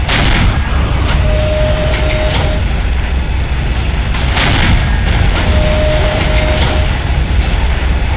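Explosions and heavy artillery-like booms tear down a GDI guard tower in a Command & Conquer-style strategy game, a dense continuous barrage of blasts and rumble with brief tonal alert beeps layered over it.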